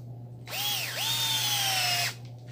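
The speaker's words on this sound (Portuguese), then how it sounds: "Bate mais dois parafusos." Power drill driving screws into an old tyre while a trampoline is built, a close, steady whirring run of about a second and a half with a short dip in pitch partway through.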